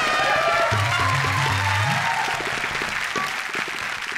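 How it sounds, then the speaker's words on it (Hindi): A studio audience at a comedy stage show claps loudly to welcome a guest, with a dense, sustained burst of applause that tapers slightly as a voice briefly speaks underneath. "जोरदार तालियों के साथ आइए"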